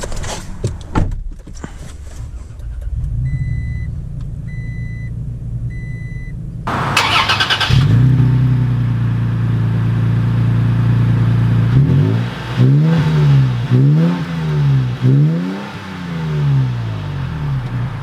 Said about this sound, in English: let's take this Tacoma TRD Pro out,